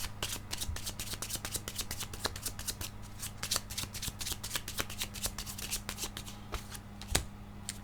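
Tarot cards being shuffled: rapid, continuous riffling and flicking close to the microphone, with a steady low electrical hum underneath and no speech.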